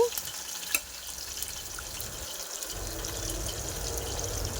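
Chopped onions and green chillies fry in a pan with a steady, close hiss and crackle that grows slightly louder and fuller over the few seconds, with no talking.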